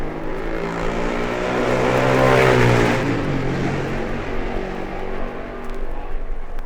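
Racing motorcycles at the 1958 Senior TT on the Isle of Man, a loud engine roar building to a close pass and fading away, followed by more distant engine drone.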